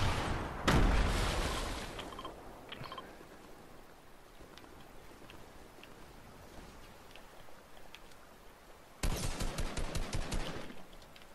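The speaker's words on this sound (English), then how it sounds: "I shot a dude in his butt." Gunfire in the video game Fortnite, with a loud burst at the start and a rapid run of automatic shots near the end, over a steady hiss of game ambience.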